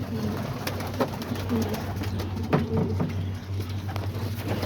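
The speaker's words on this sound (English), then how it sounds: "And then over here, these are with these pigeons" Pigeons cooing inside a cage, soft repeated throaty coos from several birds close by over a steady low hum, with occasional light rustling and no talk.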